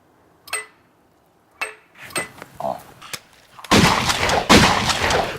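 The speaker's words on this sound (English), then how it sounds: "the gunshots proved to be pretty comedically timed with the shooting of the fake gun." Homemade gunshot sound effects for a fake gun: several sharp, isolated bangs spaced out over a few seconds, followed by a louder burst of dense crackling noise near the end.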